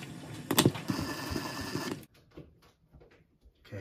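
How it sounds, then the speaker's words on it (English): Mounting screws being driven into the wall while a WINFLO range hood is installed, a close whirring power-driver burst lasting about a second and a half, followed by quieter handling noises. "So I'm going to go ahead and actually sink them a little bit and then all the way once we can get the thing hung."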